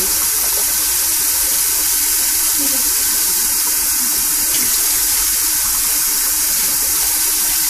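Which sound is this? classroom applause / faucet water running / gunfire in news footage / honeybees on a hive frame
faucet water running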